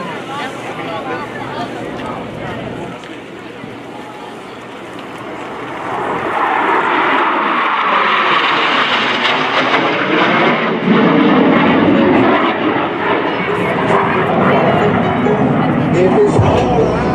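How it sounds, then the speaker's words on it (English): Two Blue Angels jets approach the flight line at an air show, a loud roar that builds and shifts in pitch as they close in, steady and continuous. "Blue Angels 5 and 6 are approaching the flight line at 400 miles per hour"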